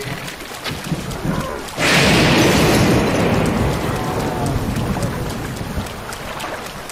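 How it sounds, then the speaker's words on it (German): A thunderstorm in a Zelda video game breaks with a sudden heavy rumbling crash that settles into a loud, sustained roar of thunder and rain lasting several seconds, with no voices. "Ach, der hat bloß ein Gewitter heraufbeschworen."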